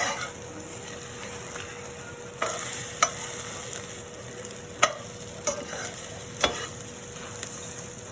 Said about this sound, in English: So we have our egg frying.